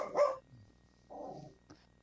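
Two short barks from a dog, a second apart, faint and distant in an otherwise quiet room.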